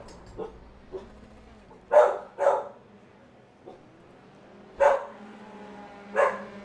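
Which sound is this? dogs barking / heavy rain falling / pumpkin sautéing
dogs barking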